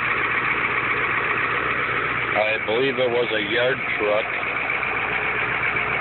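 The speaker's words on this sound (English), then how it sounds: "Sounds like it runs pretty smooth." Former yard truck, a 1974 Ford 8000 with a Cat 1160 engine, idles with a steady low rumble close by while someone talks over it.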